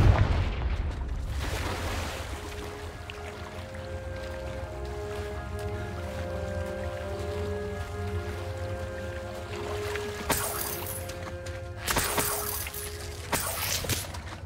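Fiery Confringo blasting-spell explosions in the Hogwarts Legacy video game: several sharp, loud bursts over a steady layered musical drone and low rumble.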